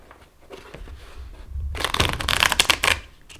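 A tarot deck is shuffled by hand: soft sliding first, then a dense run of fast, crisp card flutters that builds and cuts off abruptly. The sound is close and plays alone.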